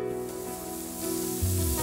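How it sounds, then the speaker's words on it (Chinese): Slices of lemon-marinated black pork sizzle steadily in a hot pan as they fry to a light char, a continuous close frying hiss with a deeper surge near the end and no talk. "烧肉煎到了微焦"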